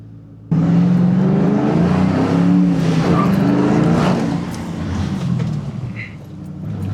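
A Ford Mustang being driven through hard and moderate decelerations to bed in new brakes: a loud, close engine drone with a shifting pitch, easing back partway through, with no voices.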